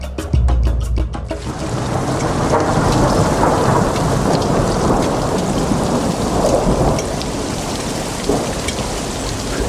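A loud thunderclap opens over heavy pouring rain in Paestum, southern Italy, and the dense downpour then continues steadily and close, drumming on surfaces with no voices.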